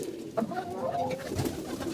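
Several pigeons coo softly and repeatedly in a close, continuous murmur of low rolling calls, with no talk over them.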